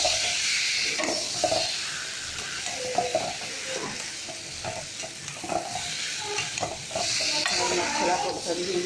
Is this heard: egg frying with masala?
yes